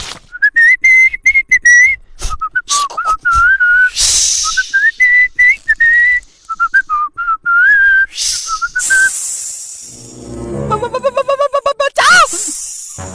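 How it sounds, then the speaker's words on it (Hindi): Someone in a cartoon whistles a wavering, sliding tune to charm a snake, loud and close, broken by short voiced bits and ending in a rising, fluttering whistle. "हाँ तो महाराज सीटी बजाओ, सीटी।"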